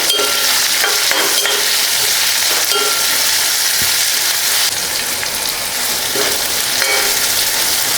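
Onions sauté in oil in a pan for tamarind rice, a loud steady sizzle with occasional spoon scrapes and stirring strokes, close and continuous throughout.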